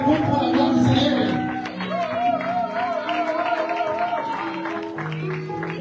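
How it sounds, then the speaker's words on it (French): A standing church congregation applauds during a worship service, a dense burst of clapping that is loudest at the start, mixed with voices and sustained sung or shouted tones that carry on underneath. "est-ce qu'on peut applaudir tout à l'état debout pour la gloire du Seigneur?"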